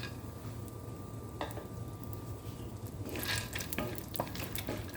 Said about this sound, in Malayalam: ഇത് നന്നായിട്ടൊന്ന് ഫ്രൈ ചെയ്തെടുക്കാം.